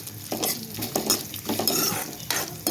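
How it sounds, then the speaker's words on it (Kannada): Raisins, cashews, dry coconut and sesame roasting in ghee in a pan, a spoon scraping and stirring in quick repeated strokes over a soft sizzle, close up with no voices. "ದ್ರಾಕ್ಷಿ, ಗೋಡಂಬಿ, ಒಣ ಕೊಬ್ಬರಿ, ಸ್ವಲ್ಪ ಎಳ್ಳು, ಇಷ್ಟೂ ತುಪ್ಪದಲ್ಲಿ ಹುರ್ಕೋಬೇಕು"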